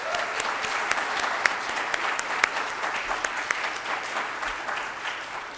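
A crowd gives sustained, even applause for practical nursing graduates at a Jefferson College pinning ceremony, with dense clapping that carries on steadily throughout and a few sharper claps standing out.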